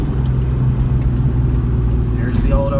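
A cammed 2004 New Edge Mustang GT engine drones steadily while driving, its low lumpy rumble continuous and close throughout, with a brief rise in tone near the end.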